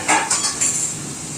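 Spice paste sautéing in a pot in a home kitchen while meat curry is cooked, with sharp metallic clinks of a utensil against the pot, a few distinct scrapes and knocks early on, then a faint low sizzle beneath.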